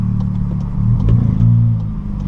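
Car engine revving in manual mode during a downshift, a steady low rumble rising in two surges with faint crackle, close and loud, no talk.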